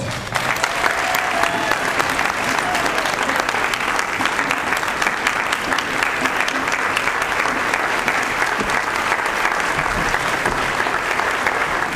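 Sustained audience applause fills the room at a 2015 State of the City Address as Mayor Henry Gonzalez is welcomed, a steady dense wash of clapping that holds at even strength throughout with no talking over it.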